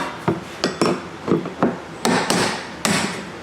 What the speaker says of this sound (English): continue using our hammer and punch